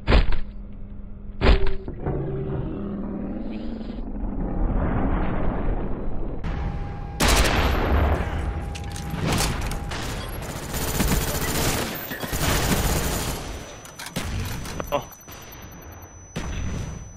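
Video game gunfire, dense bursts of shots and explosions going on for many seconds, loud and close, with players talking over it.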